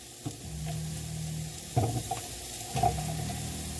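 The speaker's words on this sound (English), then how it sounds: "Stir them up just a little bit, okay? Let them start to cook some." Onions with a sprinkle of garlic powder sizzle in a pan, soft continuous frying broken by a few short bursts of stirring scrapes, close but fairly quiet, with no voices.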